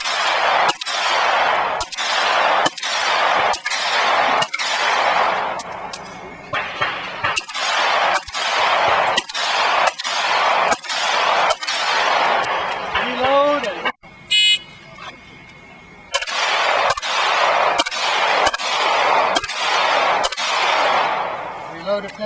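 A practical pistol shooting match with rapid strings of loud, sharp handgun shots in close bursts, broken by brief pauses and a short electronic timer beep, with no talking.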